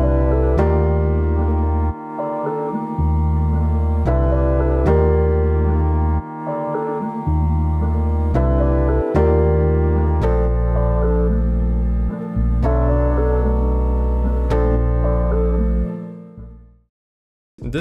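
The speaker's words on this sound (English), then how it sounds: "So after the piano, I added a bass, and it follows mostly the root notes, and I'll play how it sounds all together." In a soul sample, piano chords and a bass line that mostly follows the root notes play together, with steady rhythmic chord changes that fade out at the end.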